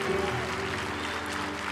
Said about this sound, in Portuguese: Aplausos de verdade.